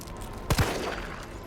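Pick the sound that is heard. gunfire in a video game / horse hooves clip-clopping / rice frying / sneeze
gunfire in a video game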